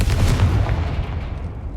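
A Confringo fire spell blast in the Hogwarts Legacy video game, a loud booming burst that rolls and decays over about two seconds with heavy low rumble.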